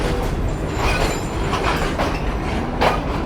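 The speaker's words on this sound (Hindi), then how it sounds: "तो ये काफ़ी शार्प कर्व से होती हुई हमारी ट्रेन हमारे सामने आ रही है, यानी कि प्लेटफॉर्म नंबर 7 पर लगने के लिए आ रही है।" Pak Business Express passenger train pulling in at platform 7 around a sharp curve, a loud, steady rumble of wheels on rails with clickety-clack joints and occasional brief squeals from the wagons, no voices.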